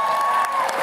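Convention hall audience at a Disney DuckTales panel at the D23 Expo breaking into applause and cheers for actor Danny Pudi, a dense, steady wash of clapping and whoops held at a loud, even level.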